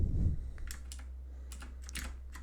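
Irregular clusters of key clicks on an unfamiliar computer keyboard, close and moderately loud over a steady low electrical hum.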